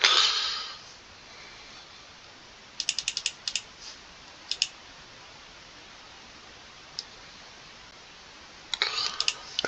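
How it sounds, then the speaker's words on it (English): Computer mouse double clicks during Championship Manager 97/98 sound as small sharp clicks in quick pairs and short clusters, scattered over a soft steady hiss, close and fairly quiet, with no talk. "Double clicking."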